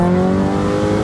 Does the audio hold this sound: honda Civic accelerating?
yes